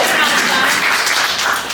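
A roast audience claps together in a dense, steady burst of applause that fades slightly toward the end, with no voices over it.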